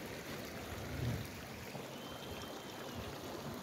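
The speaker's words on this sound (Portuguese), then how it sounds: "Essa represa aqui cai água nessa outra represa aqui." Water spills from one farm reservoir into another, a steady broadband rush and splash that holds at moderate level throughout with a slight swell near the start, no voices over it.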